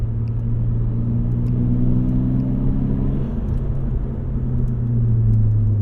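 A 1998 Eagle Talon TSI cruises along with a steady low engine rumble and road noise, the drone shifting slightly in pitch midway as it drives, loud and close from inside the cabin with no talking.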